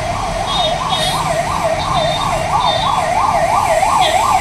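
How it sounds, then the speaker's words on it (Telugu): Ambulance siren wailing in a steady rising-and-falling sweep over a constant hum of heavy traffic on a busy city street, loud and close throughout with no talking. "అంబులెన్స్ వస్తుంది, ఒక అంబులెన్స్"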